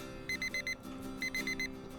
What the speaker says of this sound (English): I hit the snooze button on my alarm clock